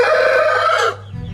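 A strong rooster of an old breed kept by fanciers crows once, loud and close, the call holding steady before cutting off into quiet.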